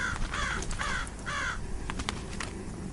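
A raven croaks three times in quick hoarse calls, followed by softer knocking clicks, over a low ambient bed in a dark atmospheric setting.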